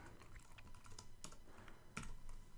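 Quiet, close typing on a computer keyboard, a quick irregular run of light key clicks with a few firmer taps.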